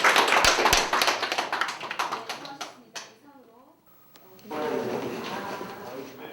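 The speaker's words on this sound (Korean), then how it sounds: "박수 한번 부탁드립니다." An audience claps together after a lifelong alcohol abstinence pledge at an addiction treatment gathering; dense applause fades over about three seconds, then voices talk.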